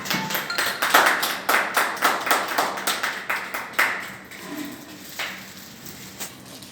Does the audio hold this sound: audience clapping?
yes